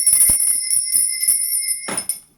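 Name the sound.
ringing a bell to cleanse the space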